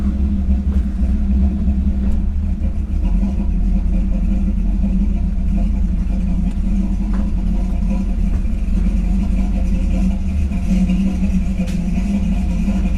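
A 1951 Chevy truck's engine idles steadily up close, a loud, continuous low rumble with an even, unchanging throb throughout and no voices.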